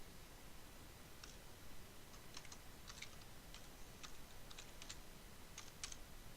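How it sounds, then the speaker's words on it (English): Keys on a computer keyboard are tapped in short scattered clusters while someone builds a thumbnail in GIMP, the faint clicks set against a steady hiss. "I'm going to type in co-op"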